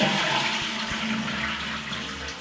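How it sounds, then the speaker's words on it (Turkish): A toilet cistern is flushed, giving a loud steady rush of water close by that continues throughout with a slight fade at the end. "Sifonu çekeceğiz."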